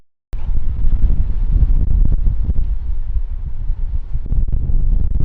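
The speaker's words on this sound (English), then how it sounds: "that wind is crazy right now" Strong wind near the top of a fire tower in the Appalachian Mountains buffets the microphone in a heavy, continuous low roar with gusty swells, loud and close for several seconds.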